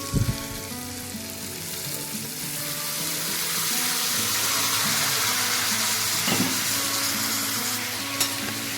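Cluster beans and onions fry in a pan with turmeric, a steady sizzle running throughout, with scraping stirs near the start and again around the middle and near the end.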